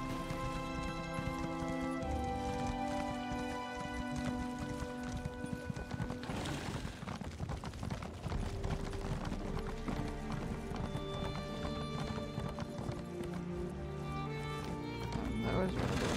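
Steady clip-clop of galloping horse hooves in the video game Elder Scrolls Online: Morrowind runs throughout over dense layered music, with a brief whinny-like burst midway.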